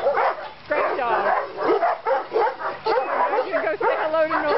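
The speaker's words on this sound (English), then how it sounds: "Great dog." A dog named as a great house pet barks and yips repeatedly in short, irregular bursts, close and loud, with a few whimpering notes in between and no voices over it.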